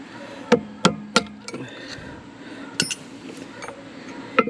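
An old screwdriver taps a worn seal out of a New Holland TN70 tractor lift arm: several sharp metallic strikes in quick succession, then a pause and a few more scattered knocks, close and clear with no talk.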